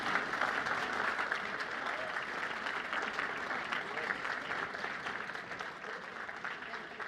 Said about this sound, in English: Let's give Trista a round of applause, please